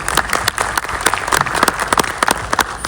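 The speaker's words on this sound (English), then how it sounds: "let's welcome Sanjeev on that stage and with huge round of applause." Audience at a tech talk on cyber resilience applauds a presenter coming on stage, dense steady clapping from a crowd throughout, loud and close.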